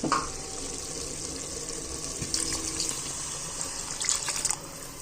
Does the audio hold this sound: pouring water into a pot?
yes